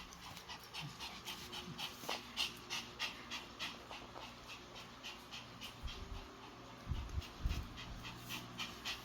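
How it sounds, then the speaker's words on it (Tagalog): A pet dog pants loudly and rapidly close by, a steady rhythm of quick breathy huffs throughout, with a few heavier snorts near the end and no talking. "Ang lakas naman ng hingal mo."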